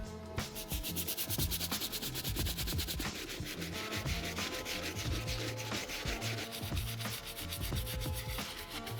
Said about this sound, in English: I'm hitting the entire shoe back and forth, back and forth